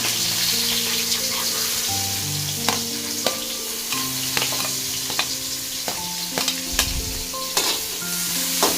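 Mustard seeds spluttering in hot oil as onions fry in a pan: a loud, steady sizzle broken by frequent sharp popping crackles, close up with no voices.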